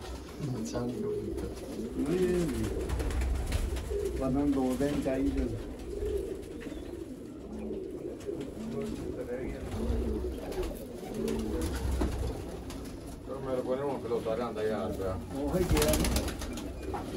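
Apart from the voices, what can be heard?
pigeons cooing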